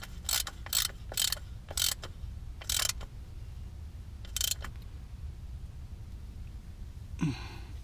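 A ratchet wrench tightens the transfer case drain plug on a Jeep Wrangler, a series of short, crisp ratcheting bursts at close range, followed by a soft exhale near the end.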